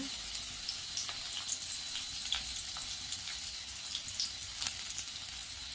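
Long-sliced onions frying in oil over spluttered mustard seeds for a poriyal, a steady bright sizzle with scattered small crackles and pops, close and continuous, no talk.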